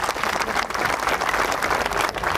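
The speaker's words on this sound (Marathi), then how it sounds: "जोरात टाळ्या झाल्या पाहिजे." Audience at a Koli fishing community women's day gathering in Khar Danda Koliwada claps steadily for a couple of seconds, a dense continuous patter of many hands at moderate distance.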